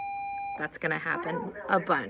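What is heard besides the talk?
beeping sound in room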